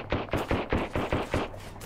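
Rapid automatic gunfire in the Sunkenland survival game, about seven loud evenly spaced shots in a quick rhythmic burst, close and alone before a short tail.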